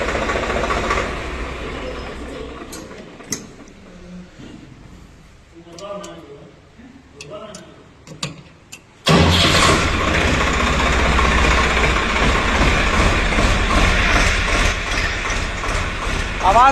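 A person talks over a quiet background, then a Swaraj 744 tractor engine, top or base model, starts roaring loud and continuous through the second half.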